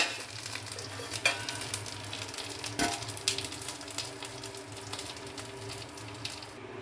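A Bengali fish curry simmers in a pan with a soft, bubbling hiss, dotted with small pops and an occasional light clink, heard alone at fairly low volume.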